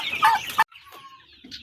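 A Rhode Island Red hen on a farm gives a short loud cluck, then fainter, breathier clucking calls after a brief pause.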